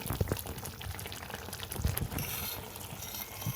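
Fresh cream goes into a simmering palak paneer gravy, giving a soft, steady bubbling and liquid gurgle. It sounds close but quiet and continues without a break, with no voices.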